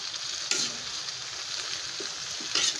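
String beans and tofu stirred in a sizzling pan for adobong sitaw: a steady frying hiss with sharper scrapes of the utensil at the start and near the end.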